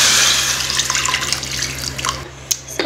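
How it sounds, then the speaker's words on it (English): Tap water runs steadily into a cooking pot, a broad hiss of filling water with small splashes and drips toward the end, heard close and alone; the water is for making chicken gravy with bouillon. "Let me get some water in there."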